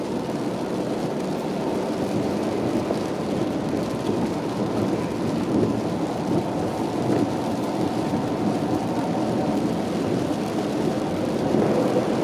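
Rain pours steadily onto a street outside, a dense continuous hiss layered over a low, rolling rumble with no pauses.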